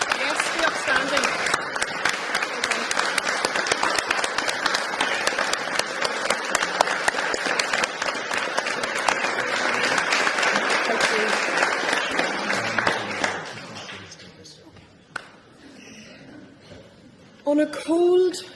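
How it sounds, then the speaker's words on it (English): Sustained, loud audience applause and clapping for twelve speakers at a live talk event, filling the first thirteen seconds before trailing off into scattered claps and quieter room noise. "give a massive round of applause to our 12 speakers"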